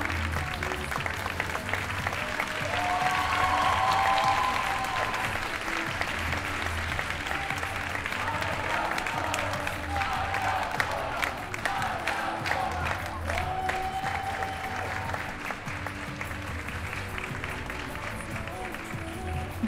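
Applause from a crowd at a school prom ball, sustained clapping and some cheering heard from a distance, with a voice speaking over it.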